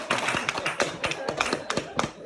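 Clapping at a magic show, a handful of sharp, close claps in an uneven rhythm rather than a full crowd, lasting about two seconds.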